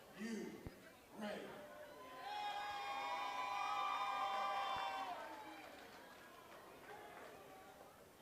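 A capacity crowd of about 1,200 at a sold-out MMA show in Junction City roars and cheers in a sustained swell of shouts and whoops, while an announcer's voice rings out over the arena before and after.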